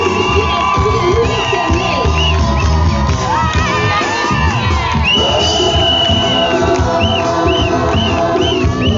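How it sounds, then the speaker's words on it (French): A wedding crowd cheers and whoops after a couple is united in marriage, loud, dense and sustained, with shrill high shouts and some clapping blended into the steady roar. "Cela nécessite que l'on applaudisse très fort."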